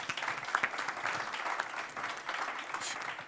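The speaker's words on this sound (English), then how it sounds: "Another round of applause for yourself, too." Steady applause from a crowd at a business forum, a dense patter of clapping that holds throughout without pause.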